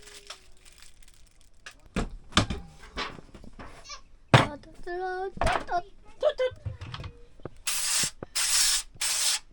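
Cooking oil spritzed onto a pan at an off-grid campsite, heard as several close, loud hissing spray bursts near the end, after scattered clatter, knocks and a brief whistle-like tone.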